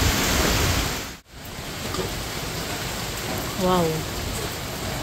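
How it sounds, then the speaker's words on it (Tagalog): Heavy rain and wind from Typhoon Uwan roar as a dense, constant hiss close by, with a brief dip partway through; a person briefly exclaims over the downpour. "Malakas ang ulan at hangin."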